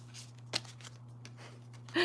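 Tarot cards shuffle softly in a quiet room, with light riffling flutters and one sharper snap partway through, before a voice begins at the end.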